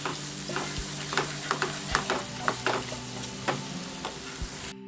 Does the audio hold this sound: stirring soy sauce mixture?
yes